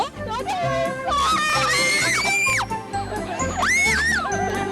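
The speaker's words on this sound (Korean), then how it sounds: "물고기는 안 잡고 웬 비명만 그렇게 질러대니" Children shriek and squeal as they wade barefoot through a pond while trying to catch fish, with high, rising screams bursting repeatedly over lively background chatter throughout.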